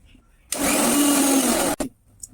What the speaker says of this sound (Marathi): मी परत अजून एक वेळेस फिरवणार आहे ते मिक्सर